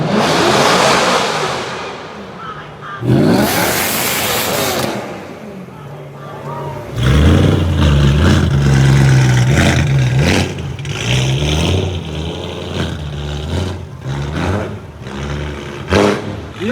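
A car entering a car meet gives loud engine revs with a rising, surging roar that swells and falls in bursts. Voices and crowd noise sound throughout.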